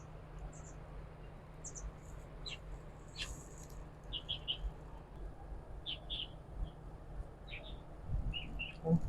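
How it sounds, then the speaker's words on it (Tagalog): Birds that catch fish call beside a river in a park, faint short chirps scattered over a low steady outdoor hum, with no one speaking. "Ayan, mga ibon na naghuhuli ng isda."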